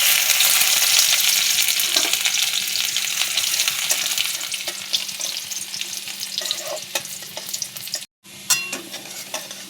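Chopped garlic sizzles in hot oil in a pan where soybean mince was just fried. A dense, steady crackle runs loud and close for the whole stretch, with a brief dropout near the end and no talk.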